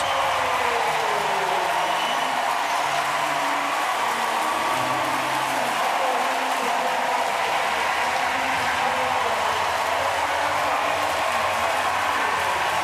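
A packed arena crowd at the Paris 2024 Paralympic powerlifting event roars and applauds a new world record by a Nigerian lifter, forming a dense, loud, unbroken wall of cheering and clapping throughout.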